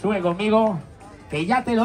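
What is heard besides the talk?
No everyday noise stands out behind the speech.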